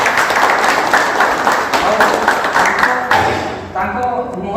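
An audience at a community committee gathering bursts into loud, close applause that fades out near the end, leaving a few scattered claps and a voice speaking.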